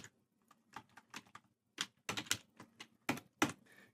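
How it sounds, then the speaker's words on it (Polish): Keys struck on a computer keyboard while entering a keyword, a close, quiet burst of separate clicks in an uneven rhythm with short pauses between groups of strokes, no talking. "Wpiszmy tutaj na przykład kwiaty."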